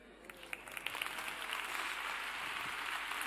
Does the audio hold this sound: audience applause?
yes